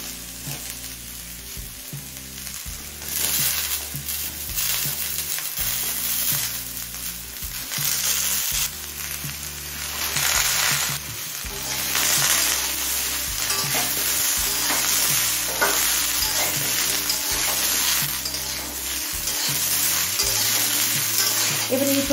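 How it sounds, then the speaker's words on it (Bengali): Potato, radish, carrot and other vegetables fry in a pan with a loud, continuous sizzle, broken by repeated scraping strokes of a spatula stirring them. "এবার এই সবজিগুলোকেও কিছুক্ষণ ভেজে নেব।"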